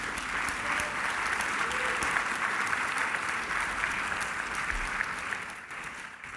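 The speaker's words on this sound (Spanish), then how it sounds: "Dale un aplauso así a tu Señor." A church congregation applauds steadily, a dense wash of clapping holding at an even level throughout before thinning slightly at the end.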